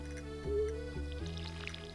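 Watering crops with a watering can in Stardew Valley, a short, soft game sound of splashing, squishing water over a steady background tone, heard alone.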